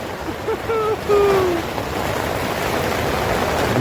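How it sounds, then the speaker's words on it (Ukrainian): A sudden heavy rain downpour at an outdoor roadside camp above a flowing river makes a dense, steady hiss that grows stronger, with brief exclaiming voices near the start. "Ох і дощ почався!"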